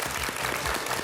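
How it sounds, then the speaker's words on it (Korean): Brief burst of studio audience clapping welcoming a guest onto a Korean TV talk program, dense and fairly loud, lasting about a second. "큰 박수로 맞아주세요."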